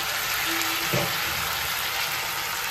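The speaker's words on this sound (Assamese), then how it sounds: "অকণমান এনেকৈ ভাজি থাকিম" Crushed ginger frying in hot oil in a pan, a steady close sizzle with a brief stirring clatter partway through.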